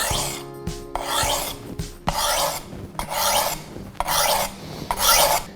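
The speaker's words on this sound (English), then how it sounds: "Now, just turn your sharpener at another angle, right like that, and now you're pulling it to you." A knife blade is drawn through a handheld sharpener in five or six steady, rasping strokes, each a bright scraping pass with short gaps between, close and clear with no talking.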